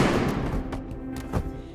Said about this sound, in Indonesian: Ternyata itu adalah tembakan dari David yang berhasil melepaskan diri.